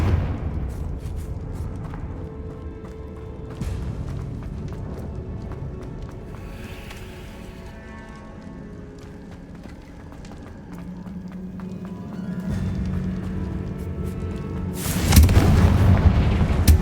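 Confringo spell explosions in Hogwarts Legacy, deep booming blasts with rumbling tails, a heavy burst near the end, amid continuous game combat noise.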